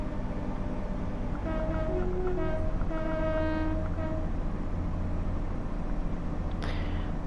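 A Class 166 diesel train runs in Train Sim World 6, heard from the passenger side. A constant low engine rumble and rolling rail noise carry throughout, with a few sustained tonal horn-like notes early on and a brief hiss near the end.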